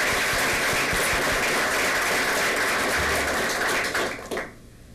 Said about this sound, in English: let's give them all one more round of applause